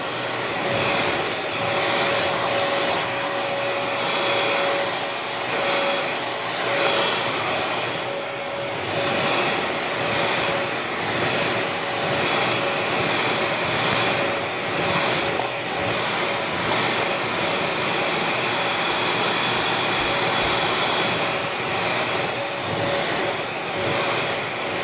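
A Bissell vacuum cleaner runs continuously with a loud, steady whirring motor drone and a faint high whine on top, close by, unchanging for the whole stretch with no talk.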